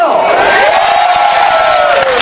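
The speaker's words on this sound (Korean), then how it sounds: "저한테 보내는 박수와 함성 몇 배로" Rally crowd roars and cheers loudly for a speaker, a burst of shouting and whooping voices swelling at once and holding in a dense, close wall of noise.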